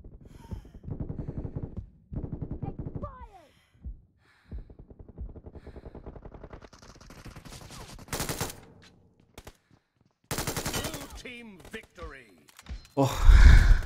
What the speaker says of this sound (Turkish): Silah bayağı iyiymiş ya.